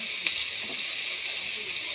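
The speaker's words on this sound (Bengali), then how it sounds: "টমেটো দিলাম, ভালো করে নেড়ে নেব" Tomatoes fry in a pan, giving a steady, faint hiss of sizzling with a few light stirring touches underneath.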